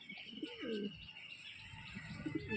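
Pigeons of a breeder's domestic flock coo softly and repeatedly in low, throaty phrases, with faint chirps and a steady background hum, no voices present.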